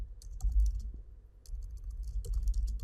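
Keys on a computer keyboard clack in quick irregular bursts over a low background hum, with a short pause between two clusters of typing.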